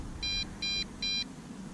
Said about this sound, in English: it looks like we have a low battery alarm